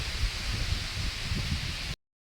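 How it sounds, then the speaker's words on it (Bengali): Strong gusty wind in an open field, rustling leaves and buffeting the microphone in a steady broadband roar with no pauses, close and fairly loud throughout. "আওয়াজ দেখুন হাওয়ার"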